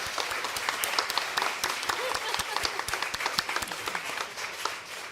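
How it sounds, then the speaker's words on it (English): An audience at a nursing ethics conference claps steadily throughout, a dense spread of individual hand claps that stays fairly even and moderately distant, with some background voices mixed in. "please give a round of applause to Jane as well"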